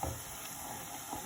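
Onions that have softened for about five minutes, with flour just added and the heat turned down, give a soft, steady sizzle close by.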